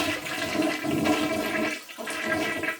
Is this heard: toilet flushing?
yes